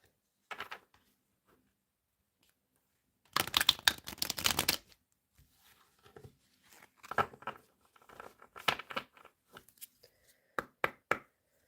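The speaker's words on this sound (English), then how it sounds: "One more shuffle." Quiet close-up tarot card shuffling: a short riffle, a longer burst of flicking cards, then a series of soft taps and slaps as the deck is handled.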